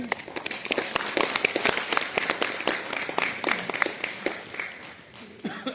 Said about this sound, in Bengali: আমরা সবাই ভবিষ্যৎ এই ডাক্তারদেরকে হাততালি দিয়ে শুভেচ্ছা জানাই